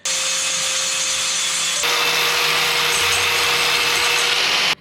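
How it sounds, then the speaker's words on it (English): Angle grinder grinding down weld beads on an Opel Manta A chassis reinforcement, a steady loud abrasive whine running without pause, its pitch shifting partway through as the disc bites into the metal. "Now we need to grind off the welds."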